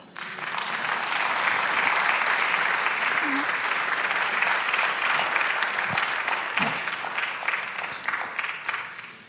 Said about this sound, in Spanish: usted se aplaude al Señor.